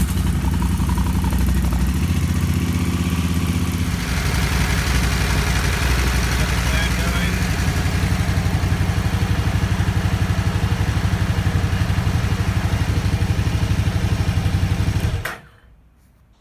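A KTM 990 LC8 Adventure motorcycle engine runs to warm up, a loud, close, steady idle with a slight shift early on, then cuts off abruptly near the end.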